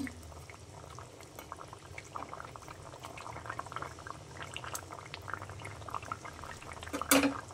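Fish simmers in a curry sauce in a pot, with a soft, steady bubbling and gentle liquid burble close by, and a brief clink of utensil near the end.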